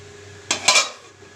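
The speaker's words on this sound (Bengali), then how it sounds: "এবার ঢাকা দিয়ে দেবো।" A metal lid goes onto a cooking pot of potatoes simmering in water for an egg curry: two quick, close clanks of metal on metal ring out against a quiet kitchen hum.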